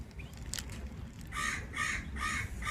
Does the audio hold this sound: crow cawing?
yes